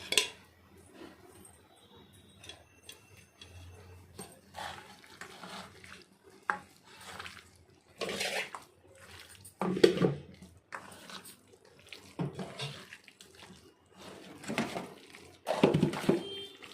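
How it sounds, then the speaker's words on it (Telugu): Chicken being mixed with yogurt and spices in a bowl for Chicken 65 marinade, giving intermittent wet squelching stirs and light scrapes against the bowl, close and fairly quiet, with pauses between bursts. "ఇవన్నీ బాగా కలిసేదాకా కలుపుకోవాలి"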